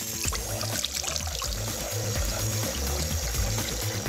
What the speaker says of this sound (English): And you rinse it off.